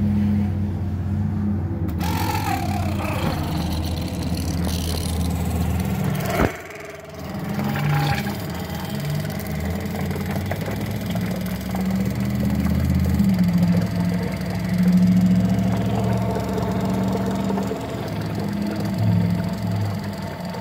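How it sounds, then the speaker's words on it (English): Fuel pump running on a small-block Chevy setup during a transmission cooler pressure test, a steady mechanical drone with a brief dip partway through and a low engine-like hum underneath. "we're gonna kick the fuel pump on, hope it doesn't kick this over"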